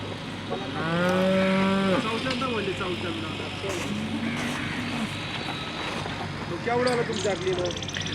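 Several cows moo loudly at the Loni cattle market, a busy, echoing space, with a long low call early on and more moos following amid crowd chatter and background noise.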